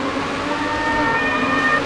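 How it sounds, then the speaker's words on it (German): An ambulance siren passes outside a home as a steady wailing tone that holds throughout, fairly loud and continuous against a low rumble of background noise. "Yay, da kommt der Krankenwagen!"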